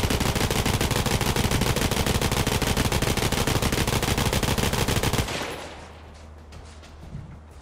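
Sustained rapid automatic gunfire from Borderlands 3 rattles loudly and continuously for about five seconds, then cuts off abruptly into a quiet, low ambient tail.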